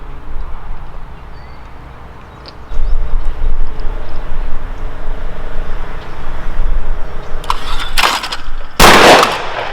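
Two loud, sharp gunshots late on, near each other, from a Browning Citori 725 High Rib Trap 12 gauge shotgun fired at trap targets outdoors, rising over a steady low background rumble.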